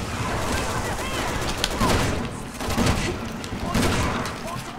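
Dense, chaotic gunfire fills a zombie fight in Resident Evil 6, with repeated sharp bursts layered over a continuous rumble of game noise while players talk.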